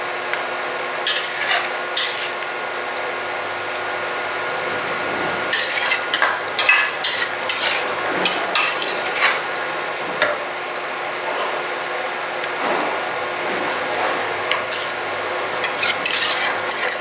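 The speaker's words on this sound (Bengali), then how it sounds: "চারিদিক থেকে নাড়িয়ে দিচ্ছি বেগুনগুলো" Eggplant pieces mixed with yogurt being stirred in a pan: repeated bursts of metal utensil scraping and clinking against the pan over a soft background sizzle, close and fairly loud, with quieter gaps between strokes.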